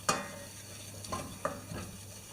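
Butter and flour roux cooks in a pan while a spoon stirs it, with a soft steady sizzle and a few scraping strokes against the pan, close and fairly quiet, with no voices.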